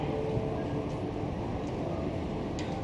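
Steady rumbling of a JR Hokkaido 733 series train arriving at a platform under a constant broadband roar, with a few faint high squeals near the end.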